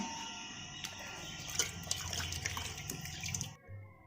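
Steady rushing of water from a motor pump pouring into a drum, continuous and fairly close, cutting off abruptly near the end.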